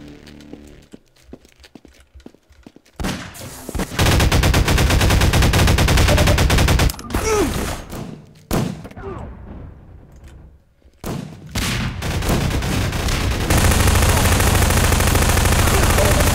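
Loud, sustained automatic gunfire from the game Half-Life 2 runs in long bursts broken by short quiet gaps, with rapid repeated shots and a near, harsh, continuous clatter.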